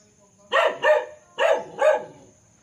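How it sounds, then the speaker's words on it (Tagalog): A dog at a farm house gives four sharp barks in two quick pairs, close and clear, over faint background hum. "Yan, may aso sa harapan."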